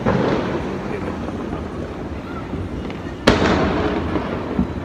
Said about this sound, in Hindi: पीछे ये सब साइड पे देखो पटाखे फूट